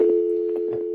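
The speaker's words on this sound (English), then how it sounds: "There's the dial tone." A loud, steady telephone dial tone hums on a live call-in radio show line, a continuous pitched drone with faint background noises beneath it.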